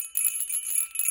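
Small bells fixed to the bottom of little craft hen ornaments give a brief, faint tinkling jingle, a few light shakes within about a second, with no talk over them.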